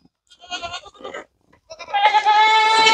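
A goat bleats close by, with a couple of short calls followed by a longer, louder drawn-out bleat, in a pen in winter.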